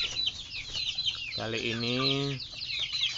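Chickens clucking on a farm where black soldier fly maggots are raised as feed, with one drawn-out, wavering call in the middle over steady background chatter, while someone speaks briefly at the start.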